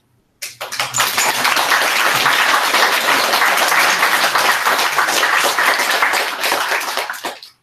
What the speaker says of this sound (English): Thank you for all the applause.